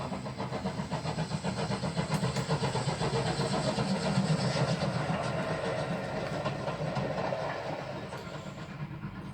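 A 1903-built Great Western steam locomotive works along a preserved railway with a steady rhythmic chuffing and continuous mechanical rumble, fairly close and sustained, with no voices.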